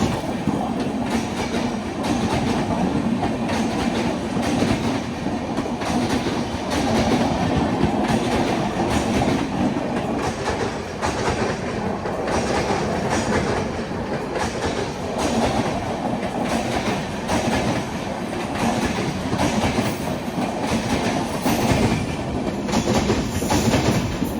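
A Taj Express push-pull train with WAP7 electric locomotives front and rear running at speed, a constant loud rumble and rhythmic clatter of wheels over rail joints, with a thin high tone creeping in near the end.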